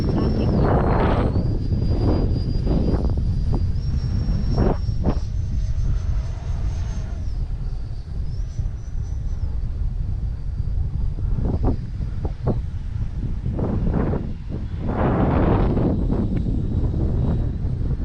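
An FMS Futura V3 RC jet flies on a windy maiden flight, its high, whining screech sweeping steadily for the whole stretch with shifting pitch as it passes, under heavy wind buffeting on the microphone and occasional voices.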